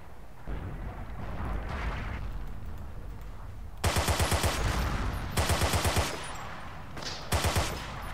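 Machine gun fire in the Forgotten Hope 2 World War II shooter, loud rapid bursts of repeated shots in several short volleys, with battle rumble between them and no talking.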